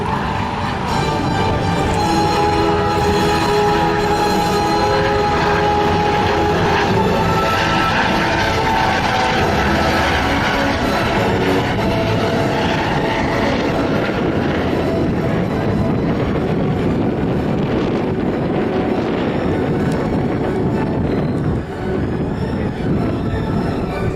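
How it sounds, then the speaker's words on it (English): Coast Guard helicopter making a photo pass at a military base open house airshow, a loud continuous rotor and engine roar that swells and holds steady for the whole pass. "The Coast Guard are going to bring their helicopter around here for a photo pass."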